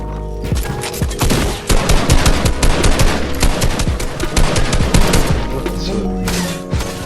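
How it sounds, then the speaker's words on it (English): Loud, dense video game gunfire with shotgun blasts and rapid volleys of shots piling up continuously for several seconds, with only slight background voice. "You can use the shotgun."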